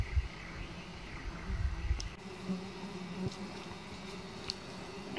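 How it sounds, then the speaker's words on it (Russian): Flies buzzing in a quiet summer forest where wild strawberries grow near the Belaya River, a low steady drone with brief insect passes coming close now and then, no voices. "только мухи жужжат"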